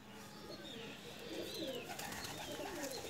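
A breeder pigeon handled by its keeper gives soft throaty coos, low rolling calls swelling midway over quiet outdoor background noise, faint and close.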